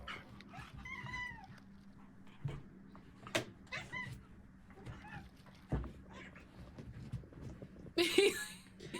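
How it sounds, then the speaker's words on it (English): Kyber, a very vocal pet cat, lets out repeated close, bending meows in bursts, with soft thumps, a brief scratchy rustle and some background talk around them. "He's just a very vocal kitty."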